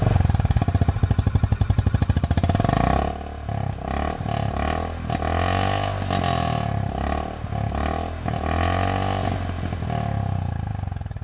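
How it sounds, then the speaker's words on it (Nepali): A Honda CB350 RS motorcycle exhaust idles with a rapid, loud thumping pulse, then revs repeatedly, each rise and fall close and strong, with no talk over it. "अब हामी होन्डाको CB350 RS को एक्जस्ट साउन्ड सुन्न जाँदैछौँ।"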